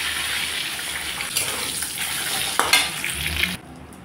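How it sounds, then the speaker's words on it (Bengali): Duck eggs frying in hot oil with turmeric and salt in a home kitchen, giving a steady close sizzle and crackle with a few sharp pops and clatters near the end, after which it quiets abruptly. "এখন আমি ডিমটাকে সুন্দরভাবে ভেজে নেব"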